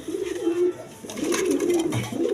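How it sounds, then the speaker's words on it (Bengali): Red Indian Bombay pigeons coo at a pigeon farm, giving repeated low, rolling coos up close, with no talking over them. "রেড কালার বোম্বাই কবুতর, ইন্ডিয়ান বোম্বাই"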